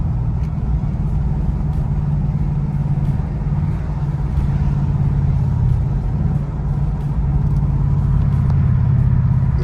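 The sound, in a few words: Ford Mustang GT with Valvetronic exhaust running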